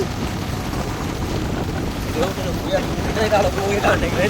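Strong cyclone wind in Jaffna roars steadily across the microphone, a constant rushing noise with windblown water washing onto a road underneath, growing slightly louder toward the end.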